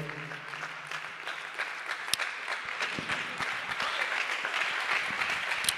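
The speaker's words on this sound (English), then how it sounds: "Everybody stand to your feet and clap your hands to the Lord." Church congregation clapping hands together in a sustained, moderately loud round of applause, with sharp individual claps standing out within the crowd noise.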